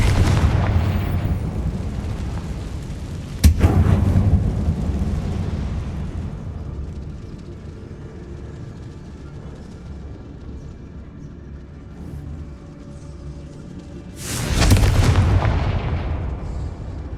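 Two heavy booming blasts from the Confringo fire spell in the video game Hogwarts Legacy, set in a mine, each a deep explosive burst with a long rumbling tail, separated by a stretch of low droning ambience.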